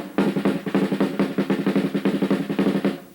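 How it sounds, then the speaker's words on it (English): A close, steady stream of drum-set 16th notes with louder accents scattered across different beats, giving an uneven, lively pulse; no voices over it. "if you put accents in different places on 16th notes"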